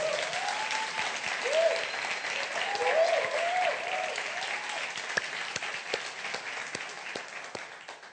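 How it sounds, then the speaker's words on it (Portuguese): Congregation applauding a band that has just played at a church service, dense sustained clapping throughout with a faint voice and tonal sounds mixed in at first. "Uma salva de palmas para a banda que tocou."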